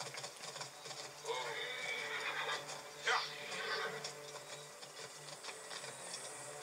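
A horse neighs in the video game Assassin's Creed Origins, a brief whinny amid the game's ambient sound and faint rustling, moderately loud and not masked by talk.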